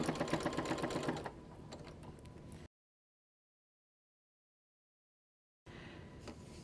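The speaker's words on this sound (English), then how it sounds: "I'm just using my regular 1/4 inch foot. And stitching all the way down to the end." A sewing machine with a regular quarter-inch foot straight-stitches binding onto a quilt, a loud rapid mechanical whir that slows, then cuts out into silence before resuming briefly, close and alone.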